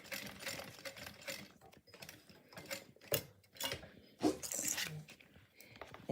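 A sewing machine stitches a fabric bag, a quiet close mechanical whirring with short stop-and-start runs of stitching and faint clicks, no talking.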